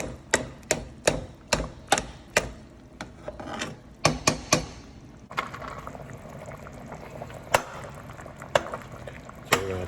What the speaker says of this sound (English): You can see the pieces are starting to get a little small. You just chop away at it.